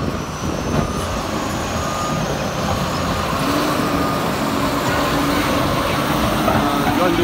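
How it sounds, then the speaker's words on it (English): John Deere 6850N forage harvester tractor pulling a Red Rock trailer arrives in a field, a steady broadband engine drone and rumble throughout, fairly close, with faint voices in the background. "Trailer coming in here."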